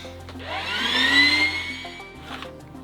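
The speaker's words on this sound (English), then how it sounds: "I vacuum all this gunk off of here" Vacuum cleaner sucking gunk off RV air conditioner parts on a travel trailer, a rising whine that swells to a loud peak and then fades away, heard close with no talking.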